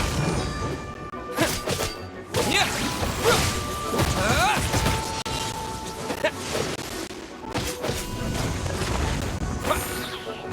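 Terra Smash attack landing in a fast series of crashing impacts, whooshes and thuds, loud and busy from start to end with no clear voice on top.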